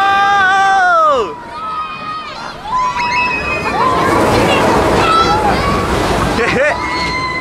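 Big wave of water crashing over people at an amusement park, loud slosh and splash with a surging wash, crowd noise and excited voices talking and shouting over it.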